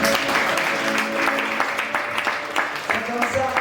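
A church congregation applauds in praise during a sermon, with continuous dense clapping close and loud throughout, mixed with voices.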